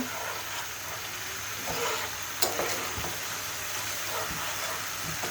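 Onion, garlic and ginger fry in oil with a steady, close sizzle and crackle, punctuated by occasional soft stirring knocks throughout.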